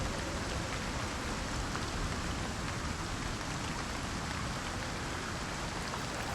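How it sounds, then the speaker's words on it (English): Light rain falling in the survival game Icarus, a steady, dense hiss of drops that stays even and unbroken throughout, with no voices over it. "It says light rain and everything"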